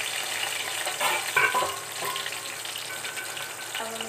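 Potatoes frying in a pan give a moderate, even sizzle with a brief burst of stirring clatter near the middle, heard close and alone.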